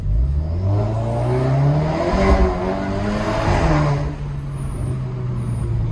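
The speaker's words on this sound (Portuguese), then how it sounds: "Muito legal ficou o barulho do Golf, cara." Volkswagen Golf GTI engine revving and pulling close by, a steady rising and falling drone with a louder surge near the middle before easing off.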